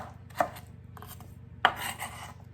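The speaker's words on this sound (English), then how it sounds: "The mango is super slimy, slides all over, so when you're cutting, just be careful." A knife cutting through slippery mango on a cutting board, two distinct chopping strikes about a second apart over a low, faint background hum.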